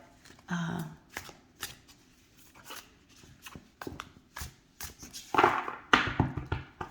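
A Jean Dodal tarot deck being shuffled by hand, with a series of crisp card riffles and slaps that come in irregular bursts. They are close and fairly quiet and grow busier toward the end.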